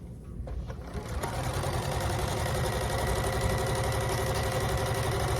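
A sewing machine runs steadily, stitching a seam on a quilt pieced from recycled clothing; the whirring motor hum starts up and holds continuous and close for several seconds, with no speech.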